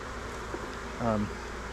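Honeybees buzz over a hive frame of nectar and pollen during a queen split check, a faint steady hum with a brief louder, closer buzz as one bee passes by.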